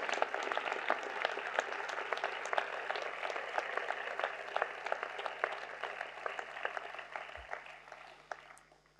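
Audience at a mayor's New Year address claps for hospital staff; steady, dense applause from a sizable crowd, sustained and fairly even before tapering slightly at the end.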